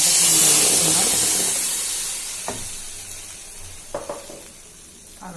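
Spices frying in a pan for chhole curry as tomato goes in, a steady bright sizzle that slowly eases, with a few soft stirring clinks near the end.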